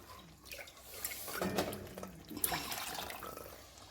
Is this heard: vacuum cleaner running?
no